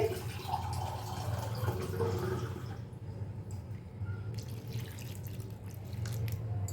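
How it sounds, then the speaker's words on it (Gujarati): Water pours steadily into a cooking pot to cover bitter gourds for boiling, making a continuous splashing gush with a faint dripping trickle near the end. No one speaks. "એમાં આપણે કારેલા ડૂબે એટલું પાણી લેવાનું છે"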